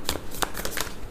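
Tarot cards being shuffled from a deck, a close, crisp riffle of several quick papery flurries in rapid rhythm, heard alone without talk.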